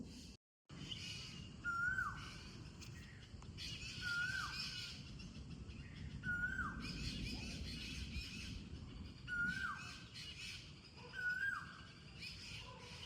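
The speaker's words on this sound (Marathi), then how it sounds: "चिमण्या एवढ्या चिवचिव करतायत ना इथं." Sparrows chirp in a busy, overlapping chatter, with one sharper call repeating about every second and a half against steady outdoor background noise.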